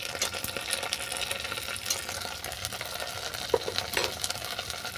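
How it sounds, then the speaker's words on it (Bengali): Ginger garlic paste frying with softened onions in a pan, a close, steady sizzle broken by clicks of stirring and a few louder spits. "এরপর দিয়ে দিচ্ছি আদা রসুন বাটা"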